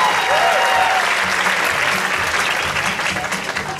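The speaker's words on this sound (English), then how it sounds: "Let's give another round of applause for our folk group and reggae artists." Dense, steady applause from a conference audience at an opening ceremony after folk group and reggae performers, a continuous wash of many hands clapping that holds throughout and tapers slightly at the end.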